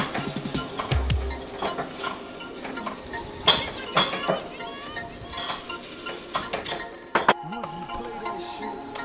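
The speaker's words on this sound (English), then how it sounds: "let me get this stirred around" A spoon scrapes and clinks against a cooking pot as ravioli is stirred, with irregular metallic knocks and taps against a light background hiss, and a voice speaking between them.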